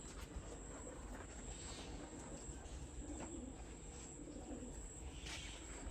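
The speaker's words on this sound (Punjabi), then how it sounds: "ਹੁਣ ਤੀਸਰਾ ਕਬੂਤਰ ਹੈ ਭਾਈ ਉਸ ਤੇ ਘਰ ਦਾ ਜੇ ਕਬੂਤਰ" Soft pigeon coos murmur in the background amid steady outdoor noise, with no talking.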